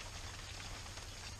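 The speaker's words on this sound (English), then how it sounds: "Probably you can't hear me right around because of the rain behind us right now." A rain shower pours down outdoors behind a biogas scrubber setup, a constant broadband hiss of falling drops that stays uniform and fairly close throughout, with no talking.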